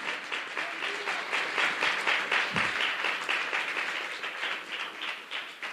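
A church congregation at a sermon applauding loudly, dense sustained clapping from many hands filling the room, with a brief low thump partway through.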